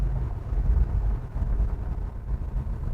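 A 1970 Pontiac LeMans muscle car gives a deep, throaty engine rumble that rolls steadily throughout, heavy in the low end like a loud exhaust while the car drives, with no talking.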